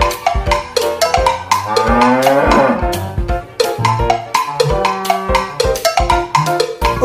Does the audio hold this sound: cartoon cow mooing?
yes